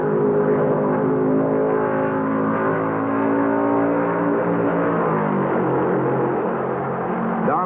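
NASCAR stock cars race at Darlington Raceway in the 1968 Southern 500, a loud continuous engine roar with overlapping harmonic whines from several cars, pitch sliding as they pass, steady and close throughout.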